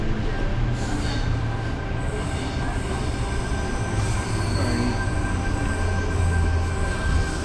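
A train rumbles at Parramatta station with steady heavy noise, wheels squealing and a high tone running throughout.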